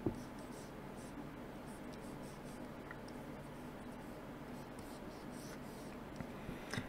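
Pencil drawing anatomy sketches, captured with high microphone gain: continuous close scratchy strokes of graphite on paper, steady and unbroken, with a soft hiss of amplified room noise underneath.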